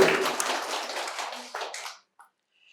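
A burst of audience clapping at a quiz prize-giving fills the first two seconds, dense and steady, then quickly dies away to near silence with one faint tap afterward.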